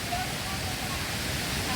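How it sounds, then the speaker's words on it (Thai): Tad Ton waterfall in Ubon Ratchathani, water pouring over stepped rock ledges, heard as a steady, even rushing roar with no breaks. "ด้านบนของน้ำตกจะเป็น ลานหินกว้างน้ำไหลตกตามหินที่มีความสูงต่างกัน"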